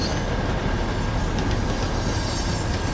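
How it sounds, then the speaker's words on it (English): In American Truck Simulator, a train rolls past as a loud, continuous rumble of wagons with rhythmic clatter of wheels on track, steady and close throughout. "Is it making good train noises?"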